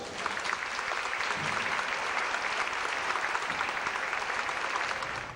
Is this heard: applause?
yes